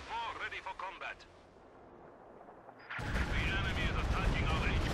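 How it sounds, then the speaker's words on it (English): Artillery fires during a Company of Heroes 2 match. A brief voice and a quieter stretch give way to a heavy, loud barrage of booming blasts that keeps rumbling to the end. "More artillery fire there."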